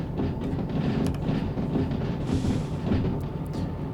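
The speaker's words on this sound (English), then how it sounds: "get a bit of train brake on here." A heavy freight train slows under its train brake in the Derail Valley simulator, with a deep continuous rumble, faint rhythmic wheel clacks and a brief hiss of air partway through.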